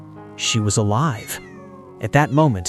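A small kitten gives a few soft, high meows in short bursts, with a narrator speaking around and between the cries.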